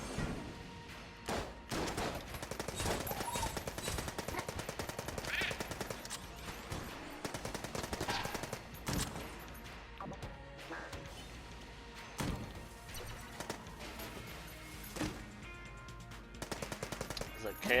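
Rapid machine pistol bursts rip through a busy Enter the Gungeon firefight, the chattering gunfire running almost nonstop over about eighteen seconds amid dense game effects and crashes.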